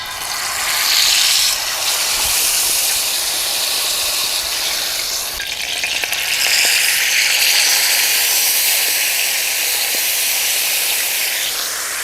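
Rabbit coated in peri peri masala sizzles in hot oil on a tawa, cooked village style. A steady, bright hiss with faint crackles holds up for several seconds, with no voices over it.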